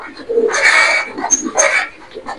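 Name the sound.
racer pigeons cooing at a pigeon farm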